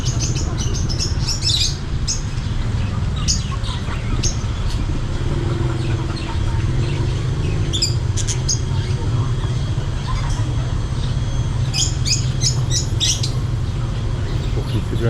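Chirps and squawks of caged birds at a roadside bird market in Vientiane, Laos, brief calls scattered over a steady hum of street and traffic noise.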